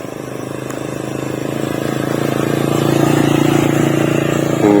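A motorcycle ridden by a child learning to ride, its engine droning steadily and growing louder as it comes closer, close and continuous.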